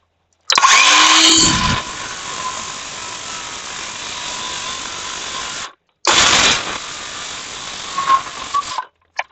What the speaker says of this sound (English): I'm going to come back through on a 90 degrees, set to 0, and it'll give me a 60-degree bevel cut on this piece of sheathing.